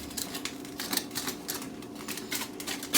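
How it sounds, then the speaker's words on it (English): Tin foil is crimped and pressed tight around the sides of a pan, giving a close, continuous run of crinkling and crackling bursts at a quick uneven rhythm. "And now we're going to tighten our tin foil"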